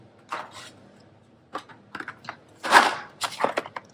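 Cheap garden shears snip through a monstera leaf stem and foliage in a few sharp, close cuts, with rustling leaf handling between the snips and quiet gaps in between.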